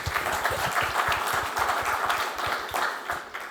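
An audience at a documentary premiere applauds a BAFTA-nominated film director, steady dense clapping of many hands filling the hall, moderately loud and continuous with no talk over it.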